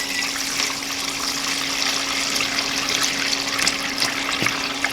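Water drains from an Oldsmobile 350 V8 engine in a garage, a steady splashing trickle with a faint constant hum underneath, continuous and close, with no speech.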